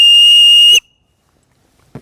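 A survival whistle blown once, a very loud, piercing, steady shrill tone held close for under a second before cutting off into near silence, with a faint thump near the end.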